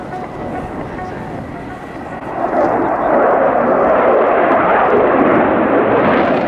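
Ramex Delta display jets at the RIAT airshow roar overhead, a loud broad jet rush that swells and holds strong after a couple of seconds, with an announcer talking beneath.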